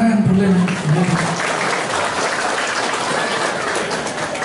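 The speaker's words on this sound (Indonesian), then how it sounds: "Oh boleh tepuk tangan, boleh." An audience at an Islamic haul commemoration gathering breaks into steady clapping, a dense patter that follows a brief bit of voice at the start and carries on evenly.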